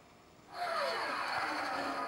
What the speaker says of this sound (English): A flyby.